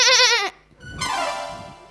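A human voice imitates a goat's bleat, with a wavering, quavering cry for about half a second, then a brief pause and a second, longer bleat. Both are close, loud and clear, with no talk around them.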